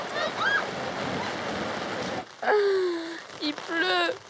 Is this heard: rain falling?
yes